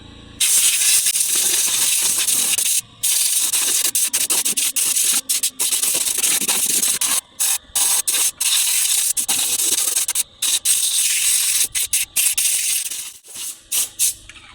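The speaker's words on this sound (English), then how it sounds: "Now I just wanted to blow all that dust and crud that's getting stuck in there." Compressed air blasting dust and crud out of a vehicle part near the tires, loud harsh hissing bursts, mostly continuous with many brief stops and restarts, close and alone.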